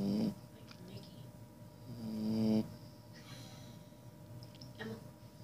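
A puppy snores at close range, with a few loud, drawn-out snorting breaths set apart by quieter breathing and soft background noise.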